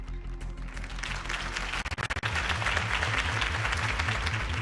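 A crowd in Batman: The Telltale Series applauds after Harvey Dent's campaign speech, a dense, soft wash of clapping that continues throughout, with a brief dip partway, under a low music bed.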